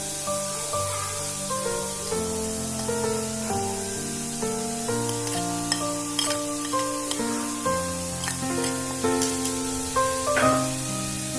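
Papaya and carrot thoran is stirred as it cooks in a pan, producing a continuous hissing sizzle with soft, regular scraping and clinking strokes throughout, while steady tonal music plays underneath.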